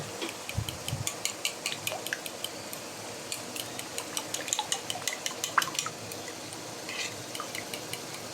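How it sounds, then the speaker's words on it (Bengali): Sour yogurt being beaten in a bowl for a chicken roast, a steady run of light clinking strokes that scrape and tap close by, with a soft wet background and no voices. "এখন টক দইটা ফেটিয়ে দিয়ে দেব।"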